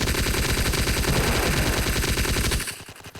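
Rapid automatic gunfire in a Roblox war game between German and British sides, a loud continuous burst of rattling shots that cuts off abruptly near the end.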